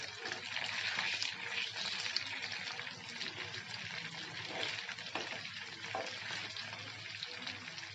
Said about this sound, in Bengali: এক পাশটা কিছুক্ষণ ভেজে নেওয়ার পর এখন আমি অন্য পাশটা ভাজার জন্য উল্টে দেব।